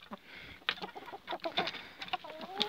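Purebred hens clucking in a farmyard, several short irregular clucks and squawks from nearby birds alone over faint background noise.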